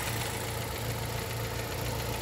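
A 2006 Ford Escape XLT with its 2.3-litre inline four-cylinder engine idles with a low, even rumble that stays steady from start to finish, with no talk over it.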